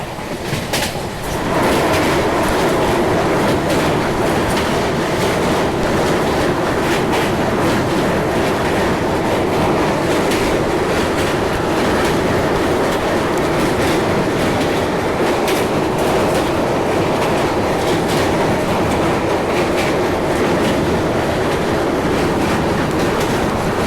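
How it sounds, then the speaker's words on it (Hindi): Duronto express from New Delhi to Jammu rolling steadily on rails, a continuous dense roar with clickety-clack wheel beats, heard from on board with no talking. "फ़िलहाल तो हमारी ट्रेन पहुंचने वाली है फगवाड़ा जंक्शन रेलवे स्टेशन"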